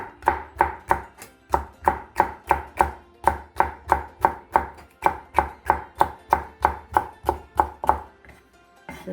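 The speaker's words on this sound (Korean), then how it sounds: "파프리카를 이걸 채를 써서 넣어주세요." Paprika sliced into thin strips with a knife on a cutting board, a steady run of about two dozen crisp, evenly spaced chops, close and clear with no talking.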